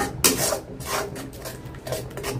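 A spatula scrapes and rubs through spice paste as it is sautéed in a pan for egg korma, making repeated close, rasping strokes in an uneven rhythm with a soft fry underneath, with no voices.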